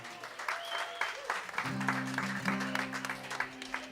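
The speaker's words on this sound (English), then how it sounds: "Give him a round of applause." An audience applauds for a band during a live music show at a venue, with moderate clapping heard alongside sustained instrument tones and a few voices.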